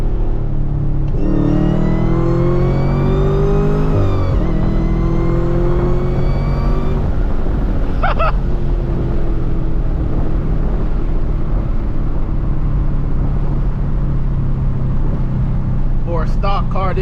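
A loud stock Camaro ZL1 engine with a 6-speed manual revs hard and climbs in pitch, drops at a no-lift gear shift, then roars on steadily close by with a brief squeal near the end.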